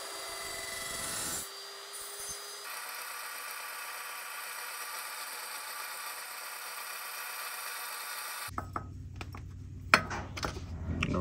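Power tool with a flap disc grinding metal while preparing a drag racing car, a steady loud broadband rasp held for several seconds, then cutting off into quieter clattering workshop sounds.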